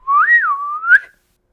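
A person whistles a single short melodic phrase up close, loud and clear, rising and falling over about a second, alone with no talking.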